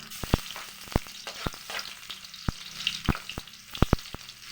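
Food fries in a pan over a wood fire for a home-cooked Filipino dish, with steady sizzling broken by sharp, repeated crackles and pops from the burning wood.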